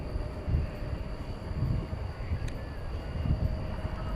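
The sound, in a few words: Boeing 747-400 taking off at night at DFW Airport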